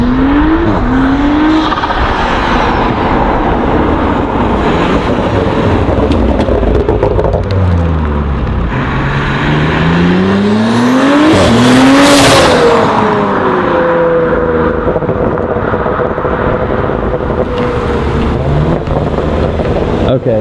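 Audi S4 with a Pure 750 turbo upgrade accelerating hard, engine climbing through gears with rising pitch and shifts, loud and close with heavy wind noise throughout.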